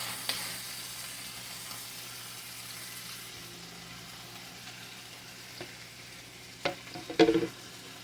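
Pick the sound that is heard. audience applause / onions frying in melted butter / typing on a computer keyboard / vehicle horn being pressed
onions frying in melted butter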